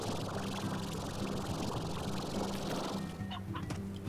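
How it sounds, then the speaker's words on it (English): A chicken in the video game Slime Rancher clucks over a continuous wash of game ambience, moderately close. "A chicken."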